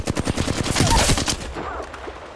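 Enemy gunfire aimed at the player in a video game firefight: loud, rapid automatic bursts crackle close by, then tail off into a softer hiss with no one speaking.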